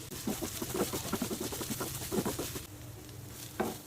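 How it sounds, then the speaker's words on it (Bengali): Beef cooks in oil on low heat for a shredded-beef dish, giving a soft, faint sizzle with rhythmic stirring scrapes that pause, then return once near the end. "মাংসটাকে যত বেশি ভুনা যাবে এবং যত বেশি তেলে ভাজা যাবে"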